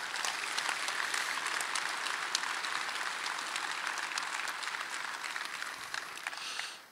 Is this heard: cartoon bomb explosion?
no